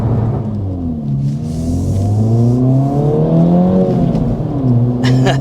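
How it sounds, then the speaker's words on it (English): A 2024 Acura Integra Type S with a 6-speed manual accelerates hard, its exhaust note rising in loud, close pitch sweeps through gears with a brief dip and climb again, no talking. "Acura has done a lot of work on the exhaust sound for this Integra Type S."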